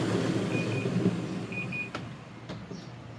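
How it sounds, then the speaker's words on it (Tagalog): A Panasonic 7 kg top-load automatic washing machine, model NA-F70S7HRM2, gives a few short, thin electronic beeps as its lid is opened, heard faintly over a low mechanical hum with some clicks. "Nagbi-beep siya pag i-open ko."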